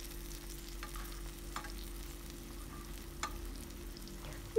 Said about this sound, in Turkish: Sucuklarım kızarmaya başladı.